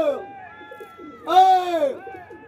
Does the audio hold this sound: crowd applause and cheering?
no